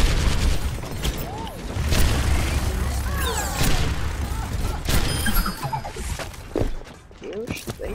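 Rapid gunfire and explosive booms from an Overwatch match, with bursts of shots, impacts and game effects crowding the mix while a player talks over the action.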